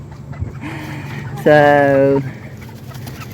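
A little bantam hen gives a single loud, close, drawn-out clucking call lasting under a second, set between quieter stretches with a few soft background sounds and a brief spoken word.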